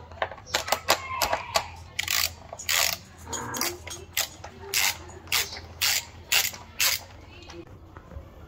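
Bolts are worked loose from the instrument panel of a Honda XR motorcycle with a ratcheting tool, giving a series of quick clicking bursts in a steady rhythm, close and clear, with brief pauses between runs.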